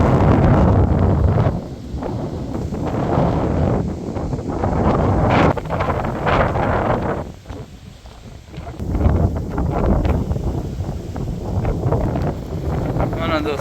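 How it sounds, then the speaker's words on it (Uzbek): Strong wind blows by the flooding Amu Darya river, roaring hard against the microphone in loud rumbling gusts that ease briefly and then surge again, close and dominant. "Mana juda ham kuchli shamol do'stlar."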